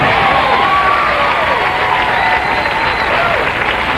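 A bowling crowd at a 1995 Quaker State tournament applauds and cheers loudly and continuously, a dense wash of clapping with scattered shouts.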